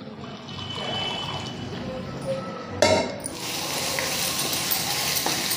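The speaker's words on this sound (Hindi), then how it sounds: "इसमें डाल देते हैं पानी" Water is poured into a bowl of ground coriander, garam masala, turmeric and red chilli powder for a papaya curry, giving a brief close splash amid faint kitchen background noise.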